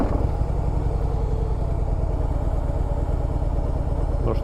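A 2014 Harley-Davidson Breakout idles close by with a loud, steady, lumpy low rumble and a light mechanical clatter, and nothing else is heard.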